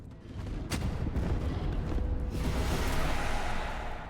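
An incendiary shot barrage in Age of Wonders 4 opens with a sharp crack, then a loud sustained roar of fiery blasts and booming impacts that builds and stays dense to the end.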